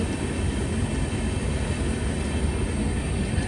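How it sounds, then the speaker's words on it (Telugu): A train rumbles past steadily and loudly in Vizag, a continuous heavy roar of rolling wheels with no pauses throughout. "చూడండి గైస్, ట్రైన్ వెళ్తుంది"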